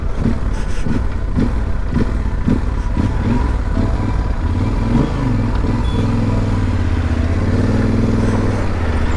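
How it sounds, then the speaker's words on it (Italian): A loaded motorcycle engine rumbles and revs close by while making a U-turn amid heavy, busy traffic in Peru, with clattering and a rising pitch as it maneuvers. "Sembra facile fare queste inversioni con la moto carica tra questo traffico assurdo"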